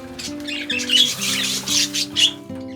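Several budgies squawk and chirp in an aviary, a dense overlapping chatter of sharp calls that stays loud and close throughout, with no talking.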